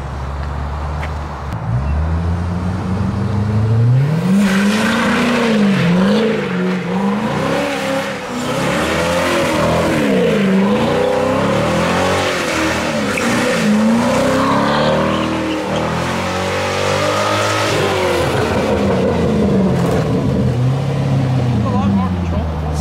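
C6 Corvette engine revving hard and loud while doing circles, with rising and falling pitch and tires squealing, close and continuous throughout, with people talking over it.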